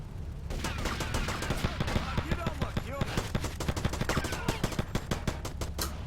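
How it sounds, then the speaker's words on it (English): Rapid automatic gunfire in GTA Vice City Stories, a steady run of close, loud shots repeating quickly and evenly for several seconds, layered over a continuous game background. "Just hear the gun shooting in slow motion"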